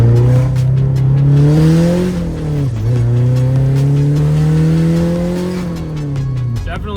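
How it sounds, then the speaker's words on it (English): Honda Civic engine revving hard with VTEC engaging, a strong steady harmonic drone that climbs in pitch, dips briefly, then climbs again, loud and close throughout. "Definitely sounds good, definitely feels good. VTEC's hitting."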